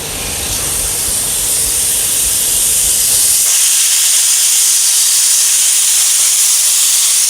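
Steam hissing steadily from an idiyappam steamer in a home kitchen, a loud, close, continuous breathy rush that carries on without pause and brightens partway through.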